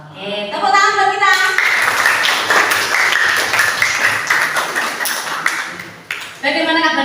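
An audience at a school career-guidance session breaks into a burst of dense, steady hand clapping lasting several seconds, with speech just before and after it.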